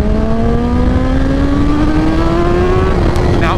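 A 2024 BMW M1000XR motorcycle at full throttle in second gear: a loud, close, steadily rising engine whine that climbs in pitch for about three seconds, then levels off with a faint clink at the end.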